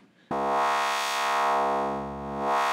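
A sustained synth bass note starts abruptly after a brief quiet moment and is shaped by a bandpass filter with its frequency lowered. The tone is buzzy and rich in harmonics, holds steady and loud, and has a slow, subtle swell in tone.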